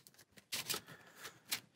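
A deck of playing cards for the Marvel Champions card game is shuffled in a few quick riffling bursts, close and quiet, with short pauses between them and no talk.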